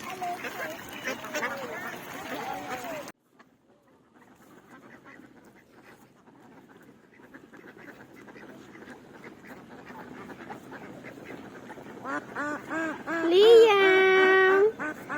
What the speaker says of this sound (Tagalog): Napanood ni Liam yung mga duck tsaka mga goose.